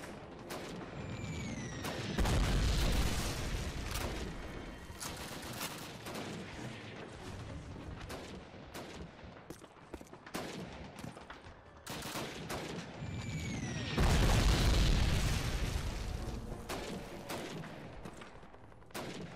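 Sniper rifle and battle gunfire in Call of Duty (2003) on PC: sharp shots crack out amid bursts of fusillade, with two heavier volleys swelling early and late over a constant rumble of combat.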